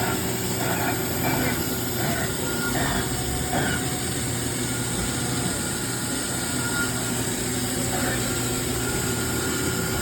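A 2018 Toyoda Stealth VB215 CNC machining center runs with its spindle at speed, a steady mechanical drone and whine holding throughout with faint intermittent clatter over it.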